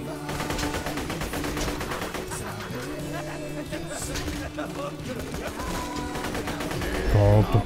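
Rapid gunfire crackles through a Borderlands 2 firefight in steady bursts while someone talks over the shooting, the shots sounding busy and dense throughout.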